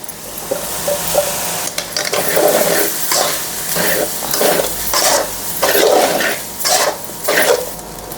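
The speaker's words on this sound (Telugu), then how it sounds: "ఇప్పుడు మనం అన్నం ఇట్లా పొడి పొడి చేసి పెట్టుకోవాలి" Cooked rice is stirred and broken up in a hot pan for a bean curry, giving a continuous sizzle with rhythmic scraping strokes of a spoon against the metal, close and loud.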